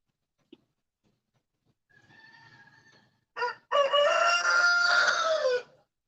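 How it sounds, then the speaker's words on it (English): A rooster crows close by, a short faint call first followed by a loud, drawn-out cock-a-doodle-doo that rings out on its own against near silence. "That's my rooster, Mr. P. That's one of my roosters."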